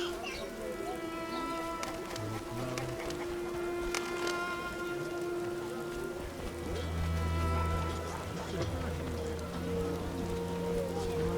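Steady rain patters in The Witcher video game, a continuous wash of falling drops layered with low ambient tones and faint bird-like calls.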